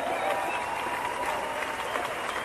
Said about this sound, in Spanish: Well, let's give him a hand, guys.